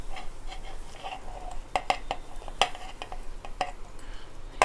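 Onions going into hot oil in a pan while cooking malai paneer: a soft background sizzle with sharp scraping and clinking of a spoon against the pan at irregular intervals, moderately loud and close, with no talking.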